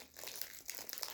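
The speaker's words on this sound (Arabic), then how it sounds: "نفتح رابع كيس" A crinkly plastic wrapper on a packaged Selacake snack cake being torn open, a close, continuous rustle and crackle lasting about a second with no talk.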